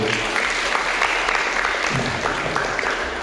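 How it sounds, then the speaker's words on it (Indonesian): Sustained applause from an audience at a public election education event in West Java, steady clapping throughout at moderate loudness with a faint murmur of voices underneath. "Boleh sekali lagi aplaus buat beliau"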